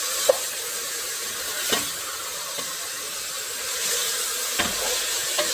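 Meat for Yemeni fahsa sautéed and stirred in a pan, heard as a steady bright sizzle with a few light scrape and tap sounds scattered on top, no voices.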